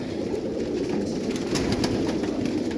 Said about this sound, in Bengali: আধুনিক পদ্ধতিতে আবদ্ধ ঘরে 2 তলা বিশিষ্ট কবুতর পালন করছে আমাদের মামুন ভাই